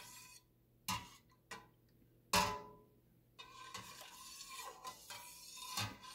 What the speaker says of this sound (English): I won't stop stirring until the next stop.